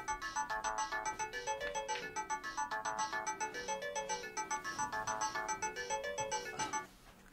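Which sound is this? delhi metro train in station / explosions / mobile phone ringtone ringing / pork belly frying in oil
mobile phone ringtone ringing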